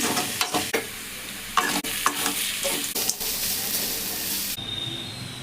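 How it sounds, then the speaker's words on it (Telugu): Carrots stir-fry in a hot pan, a loud close sizzle broken by repeated scraping strokes of a spatula in uneven bursts, then a smoother steady hiss at the end. "క్యారెట్ ఫ్రై కూడా చేసేస్తున్నామండి"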